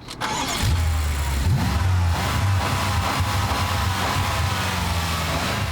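A 2013 BMW M5's 4.4-litre twin-turbo V8 fires up and revs, a loud, steady engine roar with rising and falling pitch held close for several seconds, no voices over it.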